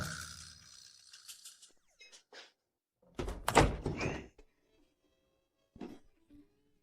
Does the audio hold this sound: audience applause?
no